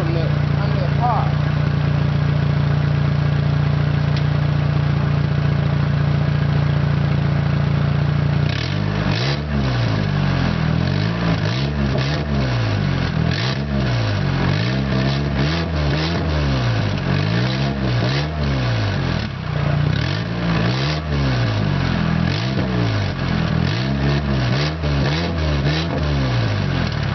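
A 1992 Honda Accord engine running at a junkyard after a cold start, heard up close from underneath the car with no exhaust fitted. It gives a loud, steady drone with a rhythmic pulsing that suggests a slight miss.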